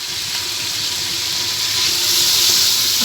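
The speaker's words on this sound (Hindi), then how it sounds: "मसाला देखें हमारा अच्छे से फ्राई हो गया है, भून गया है और ऑयल हमारा ऊपर आ चुका है" Masala sizzling in hot oil in a pan for daal mash, a steady broadband frying hiss that holds fairly loud and even throughout, with no voices.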